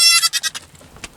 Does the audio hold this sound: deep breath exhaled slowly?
no